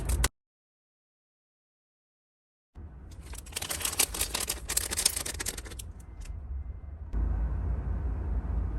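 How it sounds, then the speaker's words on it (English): After a brief silence, scissors snip open a crinkling plastic minifigure pack, rustling closely for several seconds, followed by steady handling noise. "I'm just gonna open this by cutting it with the scissors"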